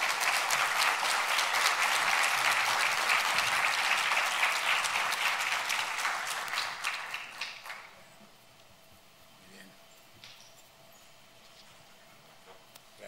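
An audience applauds as Ernesto Talvi is welcomed on stage, with dense, sustained clapping from a sizable crowd for about seven seconds that then thins and fades into quiet room ambience with a few scattered claps.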